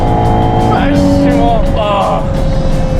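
A Ferrari Purosangue driven fast on a road behind a truck, its engine a loud steady roar with rising whining tones and wind rush, while people talk over it.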